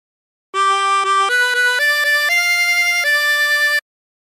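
A 16-hole tremolo harmonica plays a short phrase of La Cucaracha, a run of distinct, wavering reed notes stepping upward in pitch, close and clear with no talk.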